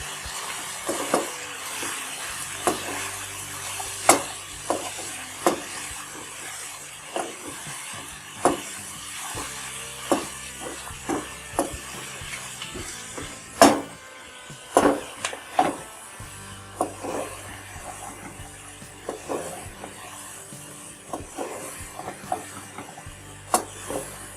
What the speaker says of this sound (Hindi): तो थोड़ा सा फ्राई कर लेंगे।